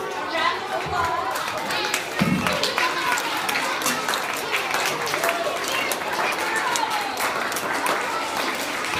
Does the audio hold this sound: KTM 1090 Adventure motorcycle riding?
no